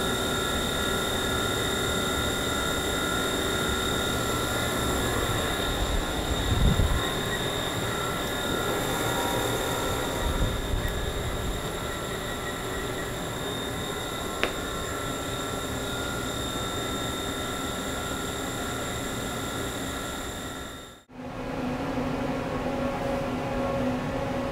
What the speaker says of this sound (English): This is just a warm-up program. It just feeds it back and forth to warm the table up